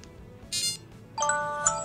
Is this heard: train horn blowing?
no